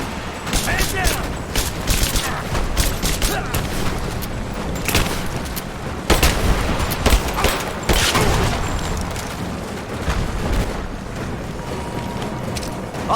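Suppressing gunfire in Rise of the Tomb Raider, with rapid loud bursts and booms in close succession and mechanical clatter, while voices shout over the fight.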